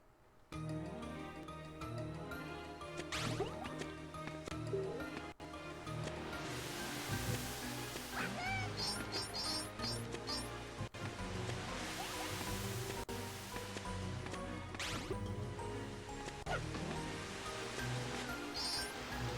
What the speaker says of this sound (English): The waterfall's going up.